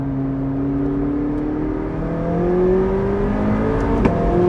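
A McLaren 675LT Spider engine hums steadily, then its exhaust note climbs as the revs rise, a close, droning roar with a faint click near the end.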